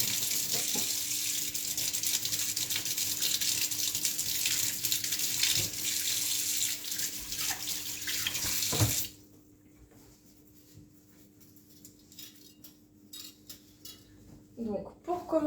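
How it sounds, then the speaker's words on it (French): Tap water runs steadily into a kitchen sink as a metal whisk is rinsed during French pastry prep, loud for about nine seconds, then cutting off to near silence with a few faint clinks at the end. "Je vais juste laver mon fouet."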